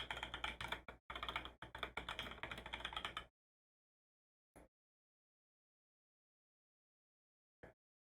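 A short burst of quick, clattering keystrokes on a computer keyboard lasts about three seconds while a report name is typed, followed by silence broken by two isolated single clicks, close and with no talking.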